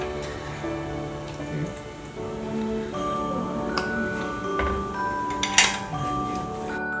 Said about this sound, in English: Mix the sauce in.